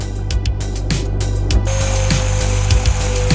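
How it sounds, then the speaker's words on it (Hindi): A blade scores and cuts holes in a flattened plastic pipe, giving close, loud rasping and scraping strokes over a steady low mechanical hum. "अब ब्लेड से निशान बनाकर छेद करिए।"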